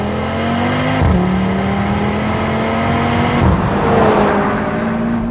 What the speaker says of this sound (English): the 5-cylinder engine that puts out over 400 horsepower and sounds brilliant?